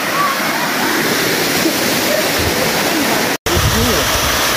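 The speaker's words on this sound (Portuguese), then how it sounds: "Que cachoeira linda. Deve ter o quê? Uns 10 metros de altura, né?" Broadband roar of a waterfall roughly ten meters high in a natural setting, loud and steady throughout, with a brief dropout near the end and faint voices beneath the rush.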